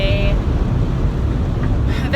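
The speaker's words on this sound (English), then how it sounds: "It's really windy today." Strong wind buffets a microphone outdoors, a continuous loud low rumble that fills the whole stretch with no pause.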